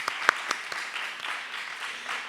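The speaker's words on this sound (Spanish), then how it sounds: "Aplaudir, aplaudir." An audience applauds, a dense patter of clapping with a few sharp louder claps early, then an even, moderately distant wash of hands that carries on without voices.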